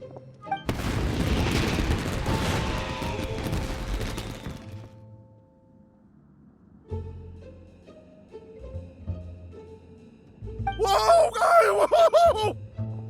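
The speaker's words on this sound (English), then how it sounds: "Euthymia, this is turning into a bit of a fireworks display." Fireworks explode in the video game Genshin Impact: a long crackling, booming burst for several seconds, quieter rumbling thuds, then a second bright crackling volley.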